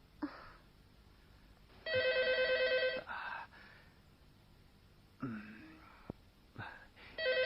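A telephone rings in a quiet room at midnight, two loud bursts of electronic bell tones separated by a pause, with faint rustling and breathing between the rings.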